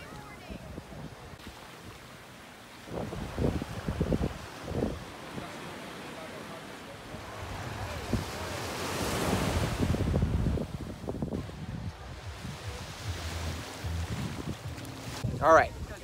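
Ocean waves wash onto a Dominican Republic beach, rising to a broad surge midway, with wind buffeting the microphone and a few thumps from handling nearby.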